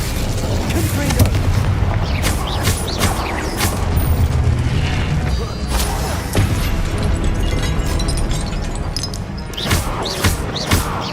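Repeated booming blasts from the Confringo fire spell in the video game Hogwarts Legacy on PS5, loud and dense, with several explosive bursts in succession over a rumbling game soundscape.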